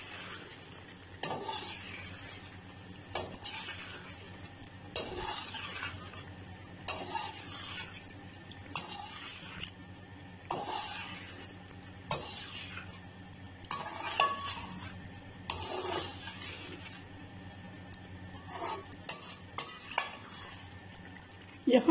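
Chicken masala with yogurt being stirred in a cooking pot, a spoon scraping and swishing in a steady repeated rhythm over a soft background sizzle, close and without talk.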